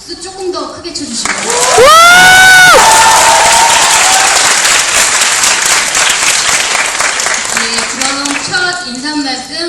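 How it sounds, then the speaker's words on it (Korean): A cinema audience claps loudly and continuously at a film screening greeting, with a voice speaking briefly over the start of the applause. "박수 조금 더 크게 쳐주시고."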